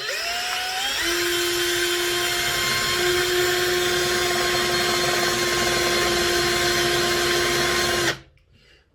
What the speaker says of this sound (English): when you're drilling into metal, it can get very hot